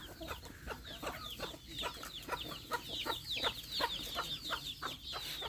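A flock of chickens clucks and chatters continuously at close range while being fed rice on a farm, with many overlapping short calls and faint pecking.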